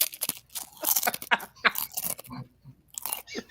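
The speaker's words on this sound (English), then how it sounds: "this is me eating some chips, and I hope you can tolerate the crunching sounds going directly into your ear" Blue corn chips eaten with avocado salsa crunch loudly and close up, in repeated bites and chewing bursts with brief pauses between.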